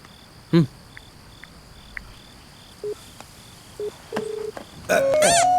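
A telephone being dialed for a call, a few short separate key tones followed by a longer steady tone, heard over a continuous background of chirping insects.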